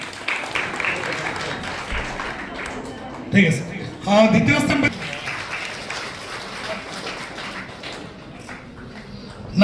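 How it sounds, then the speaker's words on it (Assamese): Brief bursts of audience applause break out at a school parents' meeting honouring toppers, a short clatter and a fuller round of clapping, with someone speaking over a microphone before and after. "এটা হাত চাপৰি দিয়া,"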